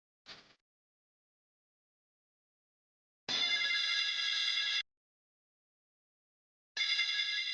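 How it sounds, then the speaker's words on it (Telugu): An incoming call rings a phone in a Telugu TV serial scene: a short chirp, then two bursts of bright, steady electronic ringing about three seconds apart, clear and alone with no talk. "ఈ అమ్మ ఈ టైంలో ఫోన్ చేసిందే."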